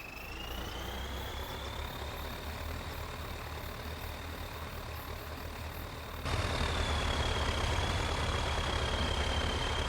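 A tractor engine in the Farming Simulator video game drones steadily with a thin whine riding above it. It grows noticeably louder about two-thirds of the way through.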